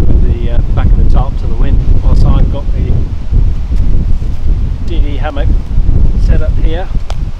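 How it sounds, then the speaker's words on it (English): Loud gusty wind buffets a tarp and the microphone at a blustery bushcraft camp beside a canoe and hammock, a constant roar with a person talking over it. "because it certainly is blowy"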